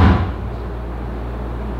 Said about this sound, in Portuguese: Bate a porta.